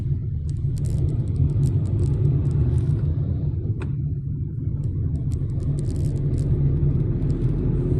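Steady, loud rumble of rush-hour road traffic, cars and engines droning continuously close by with faint higher hiss, no voices.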